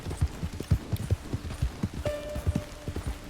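Horse hooves clip-clopping in the video game Red Dead Online, a steady rhythmic trot of hoofbeats close by, with a brief tonal ring partway through and no talking.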